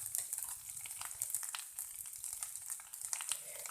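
Chicken pieces fry for shawarma in a pan, a soft, steady crackling sizzle with bright hissing spatters and faint stirring scrapes, quiet and close throughout.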